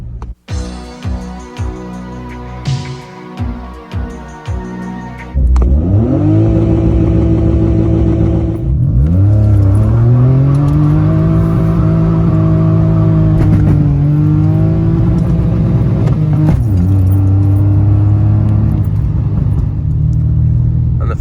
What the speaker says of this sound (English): So let's go and see how the car drives with it.